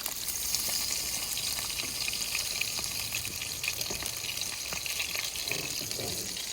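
Trout fillets sizzle and crackle in oil in a pan at a lakeside cookout, a steady close frying hiss with small pops throughout and no talking.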